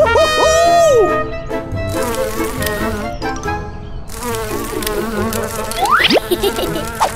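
A cartoon bee's buzzing drone rises and swoops amid animated sound effects, with cartoon voices and music mixed in; the buzz comes and goes over about seven seconds.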